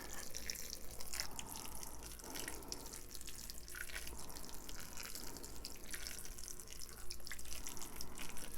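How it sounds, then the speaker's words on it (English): Water pours from a watering can onto a newly planted mangrove, a steady soft splashing trickle with a few drips, close and fairly quiet, without talk. "We got it nice and watered in."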